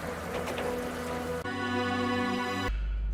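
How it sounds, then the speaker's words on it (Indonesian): Heavy rain pours as a sound effect in a children's Bible story, a steady dense hiss that shifts abruptly partway through into a tonal, humming texture before cutting to a low rumble, with no one speaking. "Lalu turunlah hujan yang lebat."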